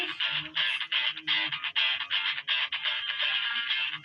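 A telephone rings in a steady, continuous electronic trill of rapid repeated pulses, fairly loud and close, running for several seconds without talk over it.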